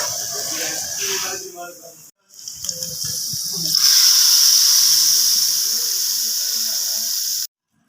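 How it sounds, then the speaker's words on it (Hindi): A loud, steady sizzling hiss bursts up as a hot spice tempering in oil is poured into dal, following earlier clatter and a brief pause, then continues strongly before cutting off. "ये तड़का हमारा रेडी हो चुका है और इसको मैं डालती हूँ इसके अंदर"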